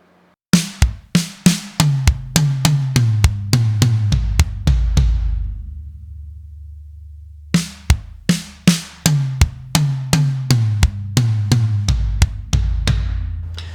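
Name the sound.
linear drum pattern played with kick on second note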